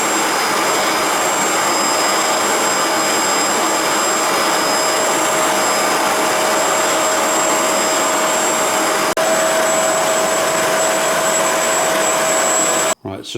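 A Bissell ProHeat 2X Revolution Pet Pro carpet cleaner runs on its dry setting, making a loud, steady motor roar and high whine that holds unchanged for many seconds before cutting off abruptly at the end.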